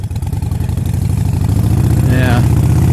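A Harley-Davidson Forty Eight motorcycle rumbles steadily on an early evening ride, its low exhaust note loud and continuous with a pulsing idle-like throb, while someone talks over it.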